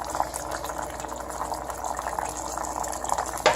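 Vegan marinara sauce of plum tomatoes and basil cooks in a pot, giving a continuous close bubbling and watery simmer with a sharper clatter near the end, and no talk.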